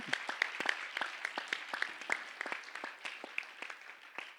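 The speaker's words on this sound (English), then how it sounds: "please, another round of applause for Reverend Michael" An audience at a spiritual lecture gathering claps together, a lively run of overlapping handclaps that carries on steadily with no voices above it.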